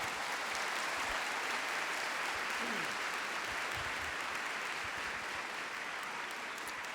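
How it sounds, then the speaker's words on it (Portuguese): Large church congregation applauding, a dense, sustained wash of clapping from a big crowd that fills the whole stretch, fairly distant and even. "Pode aplaudir a palavra."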